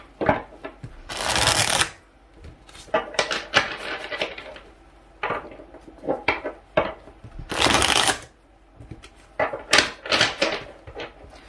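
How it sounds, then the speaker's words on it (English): Tarot cards are shuffled over and over in quick riffling bursts, close and fairly loud, with short pauses between rounds. "I'm going to shuffle the cards real quick."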